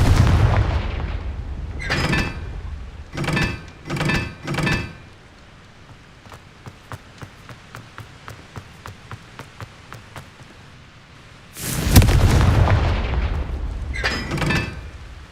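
Confringo blasting spells in the video game Hogwarts Legacy go off as a series of loud, booming bursts in quick clusters, with a softer run of rapid ticking between them and a bigger blast near the end.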